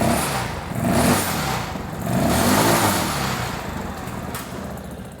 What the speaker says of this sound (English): give it a couple good revs for good measure